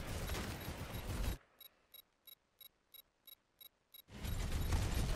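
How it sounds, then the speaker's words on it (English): A video game turret fires a rapid series of about eight sharp, evenly spaced mechanical shots, clicky and metallic, between louder bursts of game noise before and after. "Turret's doing work this whole time, so that's good."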